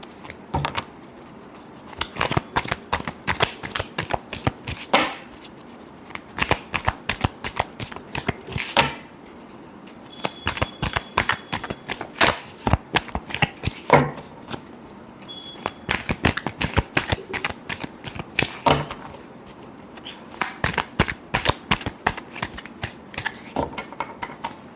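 Tarot cards being shuffled by hand in repeated bursts of crisp riffling flutter, close and fairly quiet, with short pauses between bursts and no talk.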